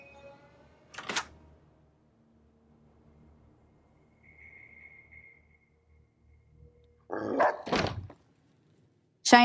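A dog named Cheyenne in a Mojave-set video game gives a few sharp, separate barks, one early and a louder pair near the end, with faint ambient game sounds between.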